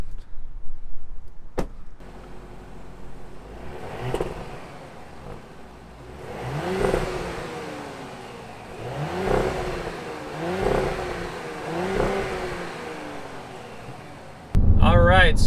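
Base-model 2020 Porsche Cayenne Coupe engine revved in a series of about five rising blips that fall away between them, heard from close by at moderate loudness, with a door-like thump near the end.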